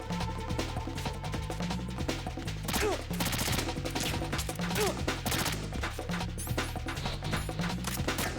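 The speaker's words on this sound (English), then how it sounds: "Stop shooting me." Rapid gunfire from Metal Gear Solid 2 crackles in dense bursts over game music, loud and close, with repeated shots rattling throughout.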